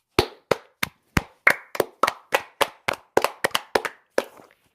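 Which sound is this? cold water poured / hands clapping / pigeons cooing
hands clapping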